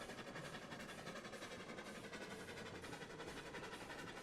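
Train rolling along track in the railroad simulation game Railroads Online, a steady broadband rumble of wheels and cars with faint rhythmic clatter, continuous and close throughout.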